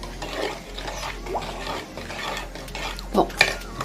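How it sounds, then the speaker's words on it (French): Spoon stirring sugar and honey in a cooking pot, a soft continuous scraping and swishing with a few sharper clinks of utensil against metal near the end. "Bien mélanger."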